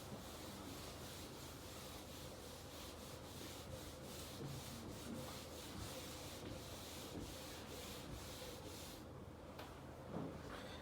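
Steady, continuous scraping and rubbing as an eraser wipes written working off a board during a trigonometry maths lesson, close and even for most of the clip before easing off near the end.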